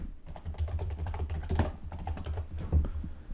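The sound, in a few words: typing on a computer keyboard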